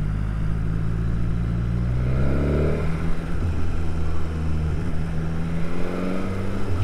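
BMW S1000R motorcycle engine heard while riding, a loud, close, steady drone that rises in pitch around the middle as it accelerates, then dips and climbs again with shifting revs.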